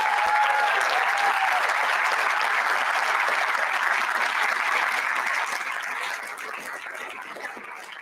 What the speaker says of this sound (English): So why don't you give the judges a round of applause now?